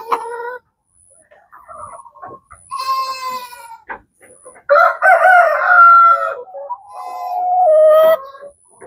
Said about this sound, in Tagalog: Yan yung mga manok ko.